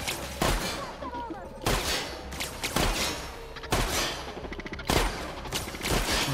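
Shotgun blasts ring out in the video game The Outer Worlds: about six heavy, booming shots spaced roughly a second apart, loud and close, with some faint game sounds between them.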